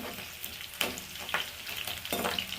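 Tempering spices sizzle and crackle in hot oil for Nellore-style fish curry, a steady close fry with a few sharp spattering pops, no talk.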